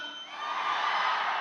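A live audience at a Telugu concert roars, shouting and cheering during a live singing performance, a dense, loud, sustained wall of crowd noise that swells slightly and holds steady.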